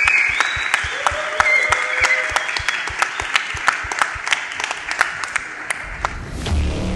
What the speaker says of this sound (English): Give these guys a round of applause, everybody